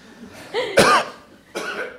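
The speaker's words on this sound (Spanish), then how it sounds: "Yo tengo que toser." A single sharp cough, close and loud, followed a moment later by a softer throat-clearing burst.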